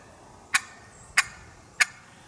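A wooden box call imitates a turkey's cluck with three sharp, evenly spaced clucks, close and crisp against a quiet background with no talking.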